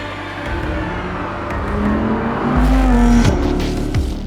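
A loud high-revving Audi R8 with a 5.2-litre naturally aspirated V10 climbs through the gears, the pitch sweeping upward before dropping and rising again, close and continuous.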